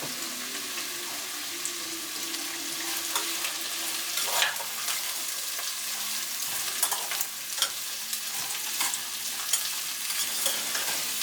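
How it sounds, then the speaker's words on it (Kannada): Chopped beetroot and onion frying in oil for a beetroot masala, a continuous hissing sizzle up close with intermittent stirring scrapes and light clatter, no one speaking. "ಕಟ್ ಮಾಡಿರೋ ಬೀಟ್ರೋಟ್, ಈರುಳ್ಳಿ ಒಂದು ಸ್ವಲ್ಪ ಕಾಯಿಸ್ಬೇಕು."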